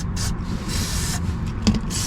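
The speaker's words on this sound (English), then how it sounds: "spray it liberally with our lube" An aerosol can of lubricant hisses in short bursts onto a car's control arm bushing under the chassis, the spray close and steady with brief pauses between blasts.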